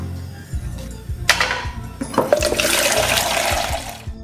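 Three cups of water poured into a cooking pot for steamed fish, a loud close rushing pour that builds and continues steadily after a couple of clanks, no talk.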